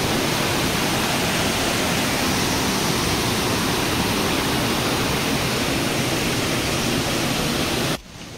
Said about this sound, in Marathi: हाच तो आहे हर्मिटेज वॉटरफॉल, जिकडे आम्ही एंटर केला